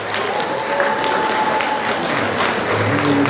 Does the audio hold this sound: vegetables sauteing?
no